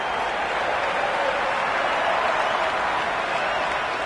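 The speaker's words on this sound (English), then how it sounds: "the crowd have joined the party. It's pretty noisy at the ground." A large crowd at a cricket stadium in Cricket 26 during an England versus Australia T20 match, roaring and cheering as a dense, steady wall of noise with no let-up.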